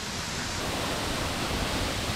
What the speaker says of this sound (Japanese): なんか改めて見ると結構立派な滝よね。 箕面の大滝です。